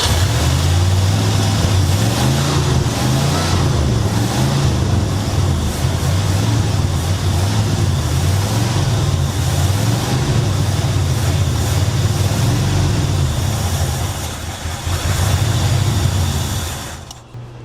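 A Mercury Montclair running at a cold idle after sitting frozen for 20 years, its engine a loud, close, steady low rumble with a slightly uneven pulse that dips briefly near the end.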